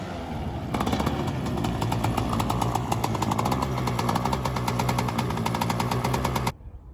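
Autocross race car engine cranks and fires up, then runs with a loud, rapid, rough pulsing close by for several seconds before cutting off abruptly, with no voices heard.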